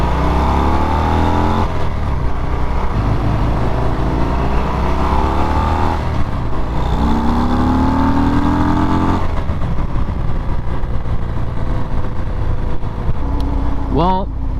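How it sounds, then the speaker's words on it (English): A 2023 Harley-Davidson Fat Bob motorcycle on a demo ride gives a loud, continuous engine drone with rising and falling revs through gear changes, heard close over steady wind rush for the whole stretch. "That was my short little demo ride of the Fatbob."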